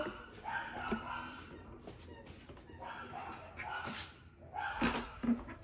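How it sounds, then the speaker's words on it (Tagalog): Dogs bark and yip repeatedly in bursts, with whimpering in between, against a busy background where people talk. "Aso."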